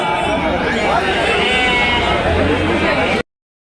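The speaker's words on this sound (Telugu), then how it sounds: "మంచి మంచి పొట్టేళ్ళ పిల్లలు వస్తుంటారు" Sheep and lambs bleat at a busy outdoor sheep and goat market, repeated calls rising over a steady crowd murmur and chatter, ending in a sudden cut.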